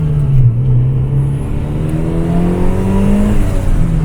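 A dyno-tuned car makes its first road pull, the engine droning loud and close as it accelerates hard, pitch climbing smoothly across the whole stretch with a constant rushing roar beneath.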